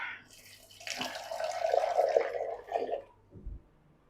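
Water is poured into a pan of matar paneer gravy, a close splashing gush lasting about three seconds before it tapers off into quiet.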